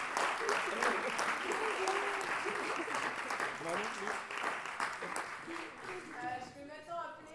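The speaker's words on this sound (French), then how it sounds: "nous allons pouvoir applaudir les 2 équipes" Audience at an improv theatre challenge applauds the two teams, loud sustained clapping that gradually thins out as voices and chatter rise near the end.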